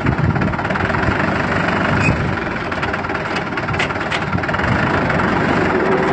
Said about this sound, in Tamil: இப்போ ஹேண்ட் ஆக்சிலேட்டர் வச்சு போகிறத பார்க்கலாம். வண்டி மூவ் ஆகுது.